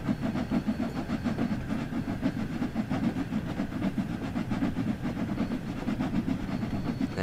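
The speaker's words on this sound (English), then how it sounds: "What a beautiful sounding steamer, though." A steam locomotive in the Train Sim World 2 game on the Liverpool Lime Street to Crewe line chuffs in a steady rapid rhythm with hiss and rolling clatter, loud and continuous, with no talk.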